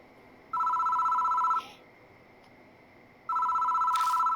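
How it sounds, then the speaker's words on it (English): A telephone rings twice in the Death Mark horror video game, each bright electronic trill lasting about a second, separated by a quiet pause against a faint hiss. "The phone rings."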